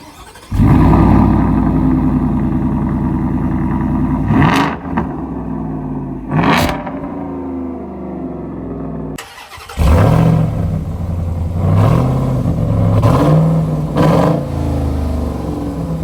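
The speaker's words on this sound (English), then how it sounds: "You would never guess that it has that 725 horsepower Whipple supercharged V8 until you hear it start up" A 725-horsepower Whipple supercharged V8 Ford F-150 with a Borla Attack catback exhaust cranks and fires up, settling into a loud, rumbling idle punctuated by sharp revs, then is shut off and restarted, staying close and obnoxiously loud.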